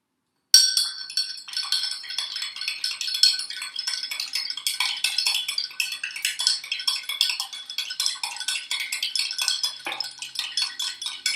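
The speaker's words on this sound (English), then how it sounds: "Stir to get as much of the sugar mixed into the water as you can." A spoon stirs sugar into a glass of water, clinking rapidly and continuously against the glass after a silent opening, with bright, close metallic taps that keep going to the end.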